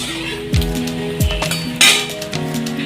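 A spoon clinks and scrapes against a pan as whole cumin, ground cumin and fennel are stirred in hot oil, with a few sharp metallic knocks and a brief faint sizzle, close and alone.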